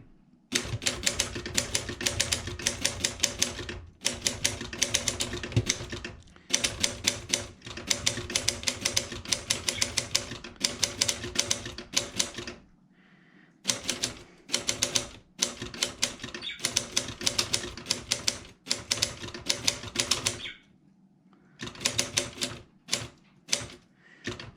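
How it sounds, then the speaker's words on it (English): Rapid clacking of Olympia SG3 manual typewriter keys in bursts, with short pauses and a carriage return rattle between lines; close and crisp. "So here we go, typing with it."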